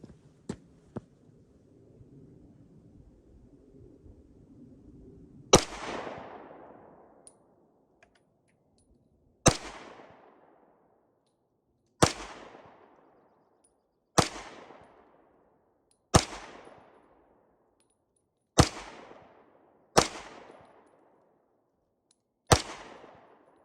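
Eight sharp pistol shots from a Swiss Pistole 06/29 Luger, spaced a few seconds apart, each a loud crack with a ringing decay, after quiet handling noises at the start.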